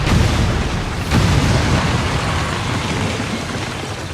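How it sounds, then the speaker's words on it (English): Planted charges detonate in XCOM 2: War of the Chosen as a dense, roaring blast with a low rumble, a second thump about a second in, and a long rolling tail. "Detonating charges."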